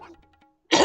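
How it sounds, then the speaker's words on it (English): A single sharp cough bursts out close and loud at the end of a short quiet pause, alone with no talk over it. "I had to get the cough out of my system."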